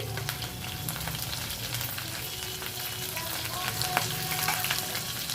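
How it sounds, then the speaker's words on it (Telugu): Green chillies, dried chillies and curry leaves frying in hot oil for pongal, a dense continuous crackling sizzle with occasional stirring scrapes, close and steady throughout with no talking. "ఈ పచ్చిమిర్చి వేసుకొని ఎండుమిర్చి కరివేపాకు కూడా వేసుకోండి"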